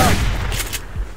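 Gunfire in the survival video game Subsistence, a short burst of several rapid distant shots with booming low rumble, alone without talk.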